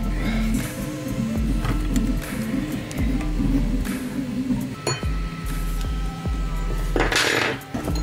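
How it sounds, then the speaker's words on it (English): Metal clinks and taps from loosening a bolt on a Trampa spring truck during a strip-down, with small tool knocks and a brighter clatter near the end, close and fairly steady throughout. "all we need to do is remove this bolt here"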